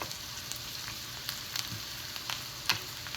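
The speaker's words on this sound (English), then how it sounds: "I can turn my onions down to a medium, between medium and medium low. And we're just gonna gently saute them." Onions sautéing gently in a pan over medium-low heat, a steady close sizzle with a few soft clicks of a spatula stirring.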